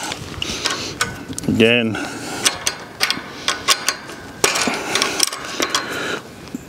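A metal fence joint clamp being tightened with a shifter on an electric fence line, giving a run of sharp ratcheting clicks and metallic clinks in an irregular rhythm, close to the mic, with someone speaking briefly.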